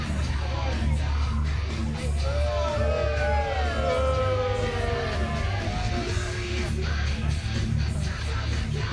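Wrestling crowd at a women's match at Clash in Boreham Wood, jeering and yelling at Jade, the Poison Princess; a steady, loud roar of shouts and whistles with rising whoops filling the whole stretch.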